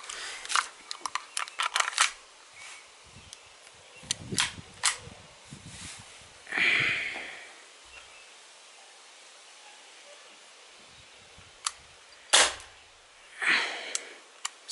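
A Makarov Ultra BB air pistol fires several sharp, snappy shots with the clack of its blowback slide, spaced irregularly over about fifteen seconds with quiet gaps and faint handling noise between them.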